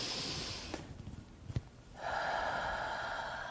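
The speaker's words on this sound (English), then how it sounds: "Let's do it one more time. Deep breath in." A slow, quiet breath drawn in for a calm-down moment, a soft airy inhale with a small snort-like catch near the start, followed by a steady hiss of background noise.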